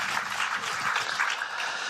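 Audience applause on a French political TV debate set about the Linky smart meter, a steady wash of many hands clapping at moderate level, filling the whole moment without talk.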